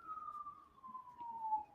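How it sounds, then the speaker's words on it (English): A police car siren comes faintly through an open window, one long tone sliding slowly downward, distant and thin against a quiet room. "I do apologize for the police sirens."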